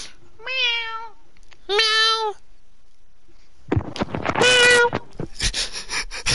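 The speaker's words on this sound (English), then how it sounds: "Dying cat." Cat meowing in a video game: two drawn-out, wavering meows, then a louder, strained, yowling cry that sounds like a dying cat, all near and clear with short pauses between.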